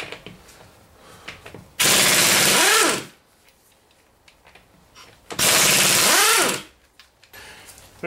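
Impact wrench zipping lug nuts off a 2002 Ford Taurus wheel, two loud rattling bursts of about a second each with winding-down whine, separated by quieter handling sounds.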